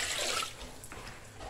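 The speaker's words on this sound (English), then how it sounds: "Okay, add more water." Water poured into a pot of fish soup in a village kitchen, a steady, close splashing and trickling that runs for about a second and a half.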